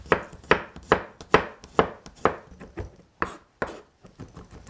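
A knife chops garlic, onion and carrots on a board in a steady rhythm of about ten sharp, close strikes, pausing briefly near the end.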